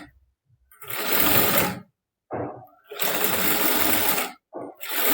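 A sewing machine runs in two long bursts of rapid whirring while double-stitching the sleeve of a princess-cut blouse, with a short pause between them and another brief start at the end.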